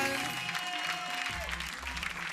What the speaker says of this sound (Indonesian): Tepuk tangan dong buat Ian dan kawan-kawan.